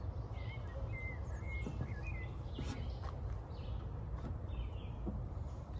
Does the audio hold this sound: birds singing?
yes